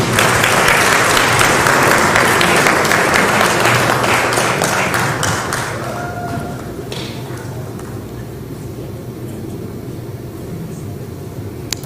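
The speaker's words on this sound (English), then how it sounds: "Hand clap for Geoffrey." An audience in a room bursts into loud, dense applause that holds for several seconds, then tapers into scattered claps and quieter room murmur with a few voices.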